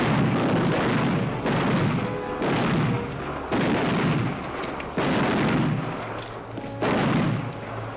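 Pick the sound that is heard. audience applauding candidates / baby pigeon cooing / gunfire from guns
gunfire from guns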